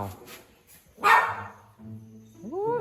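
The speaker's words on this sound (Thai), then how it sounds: "ชอบไปเห่าเขา" A pet dog gives one loud, close bark indoors. People talk around it before and after the bark.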